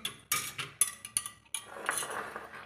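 A spoon clinks sharply against a glass or jug while stirring a homemade fruit drink, several distinct metallic taps in quick irregular succession followed by a softer swirling rattle.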